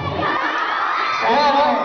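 A crowd of fans screams in high, shrill, sustained cheers, loud and dense throughout a brief burst, with the shrieking swelling slightly toward the end.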